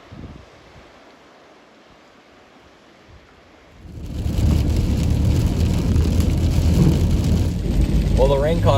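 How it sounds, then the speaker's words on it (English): Steady rain on a car during a camper-car road trip across Canada, rising from a quiet near-silence into a dense, continuous hiss and patter partway through, close and fairly loud. "Well, the rain caught up to us"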